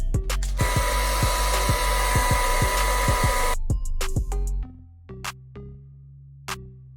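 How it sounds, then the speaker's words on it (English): A blow dryer on the cold setting is aimed at a lace wig: a steady, fairly loud whoosh for about three seconds that then cuts off, with repeated sharp clicks and taps throughout. "You want your blow dryer to be on cold air, because if it's on heat, it's gonna start turning white in the front."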